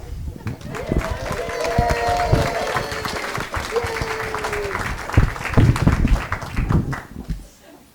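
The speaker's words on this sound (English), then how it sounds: "and then another round of applause." Audience applause fills a room at a township trustee candidates' forum, with steady clapping running the full length under voices and a brief tonal whistle-like sound early on.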